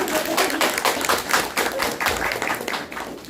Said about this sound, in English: we will give a round of applause for everyone who participated